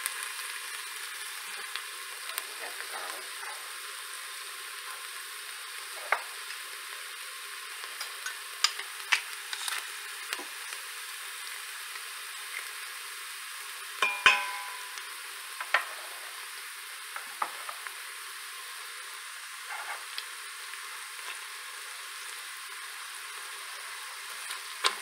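Chopped onion fries in oil in a pan with a steady, close sizzle. Light scraping and clicking from stirring breaks in throughout, with one sharper knock midway.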